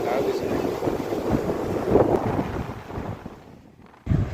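Steady, blustery sea wind at the shore in Puri buffets the microphone with a low roar for several seconds, briefly easing near the end before a sudden loud gust returns.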